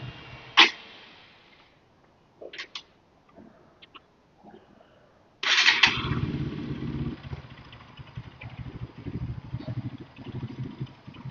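Faulty motorcycle engine idling roughly and jerking, starting abruptly after a few clicks and sputters, then running unevenly with a loud, irregular low rumble.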